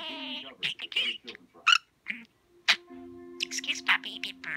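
Pet talking budgie chattering in rapid, scratchy bursts with high squeaks, close and fairly quiet, and a person speaking over part of it.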